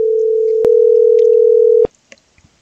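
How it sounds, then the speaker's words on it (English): A steady telephone line tone from an out-of-service number holds for almost two seconds, broken by a click partway through. It is cut off by a sharper click, leaving a few faint ticks and near-silence. "The number is out of service."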